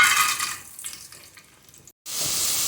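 Whole spices, cinnamon, cloves, bay leaf, cardamom and pepper, sizzle in hot ghee and oil for a country chicken biryani; a loud broadband hiss fades, breaks off for a moment, then returns strong and steady, with no talk.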